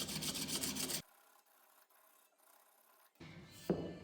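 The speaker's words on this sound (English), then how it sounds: "It's really quite as simple as just taking the sandpaper and just rubbing it over the Milliput." Sandpaper rubbed over hardened Milliput putty on a shoemaking last gives a soft, dry scratchy rasp with short strokes, loud at the start and end and quieter in the middle.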